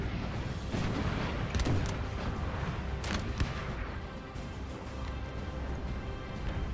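Artillery cannon fire in the video game Napoleon Total War, a dense, continuous rumble of booms and distant salvos with a few sharper cracks standing out.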